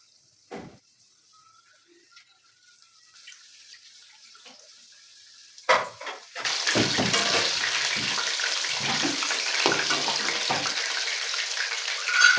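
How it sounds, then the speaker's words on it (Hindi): Chicken pieces dropped into hot ghee burst into a steady, loud sizzle after a few quiet clinks and taps, the frying hiss holding strong and continuous to the end. "एक एक पीस हम जो इस तरह से फ्राई करने के लिए डालेंगे"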